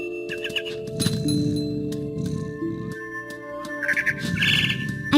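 Birds chirp in short, bright trills and tweets in the game What Remains of Edith Finch, with a sustained tone and soft ambient rustle underneath.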